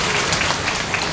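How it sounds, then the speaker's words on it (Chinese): A crowd at a local public event applauds for the city mayor with a brief, dense burst of clapping that fills the space. "给他再给他一个掌声好不好？"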